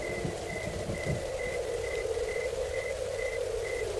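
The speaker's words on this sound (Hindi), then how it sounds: "हल्की हल्की बारिश शुरू हो गई।" Soft, steady rain patters continuously, with a faint repeating electronic beep pulsing in the background at regular intervals.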